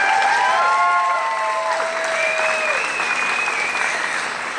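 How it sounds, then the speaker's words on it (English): A crowd at the Spirit of Stonewall Rally 2022 giving a sustained round of applause, dense clapping throughout with a few whistles rising above it, fairly loud and continuous. "That's a round of applause."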